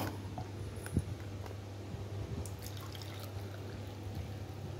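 Warm water is poured from a vessel while cooking with mangoes, a faint, steady trickle over a low constant hum with no talking.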